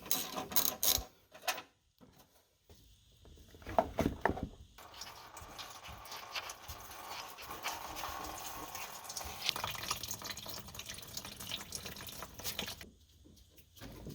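Coolant drains from the radiator petcock of a '78 Chevrolet Monte Carlo: a faint, steady trickling stream runs for several seconds after a few quiet clanks, then stops.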